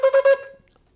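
A shofar blown by mistake gives a truah, three quick staccato pulses of a brassy tone within half a second, loud and close, then dying away into silence.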